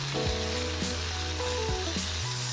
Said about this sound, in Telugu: నూనె వేడికిన తర్వాత ఇందులోకి అర టేబుల్ స్పూన్ జీలకర్ర సైజారు పచ్చిమిర్చి అలాగే ఒక ఉల్లిపాయ కట్ చేసి వేసుకోవాలి